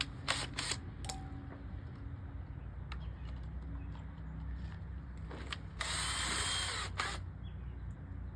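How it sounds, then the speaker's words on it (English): Power drill pre-drilling holes in wood for screws during an arcade cabinet restoration, short bursts with a longer whine near the end, close and moderately loud among clicks and handling noise. "We got to pre-drill it first"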